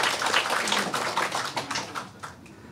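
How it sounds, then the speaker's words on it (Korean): A church congregation gives a round of applause to welcome first-time visitors. The brisk, fairly close clapping starts strong and tapers off over a couple of seconds into a few scattered claps. "큰 박수로 환영하겠습니다"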